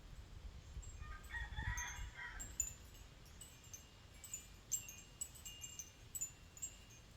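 A rooster crows once, fairly distant, against an outdoor background at a rural garden home with faint birds chirping and breezy ambient noise.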